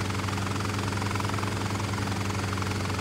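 Steady helicopter rotor and engine drone from Microsoft Flight Simulator X, a continuous loud whirring hum with even throbbing, unbroken and without voices.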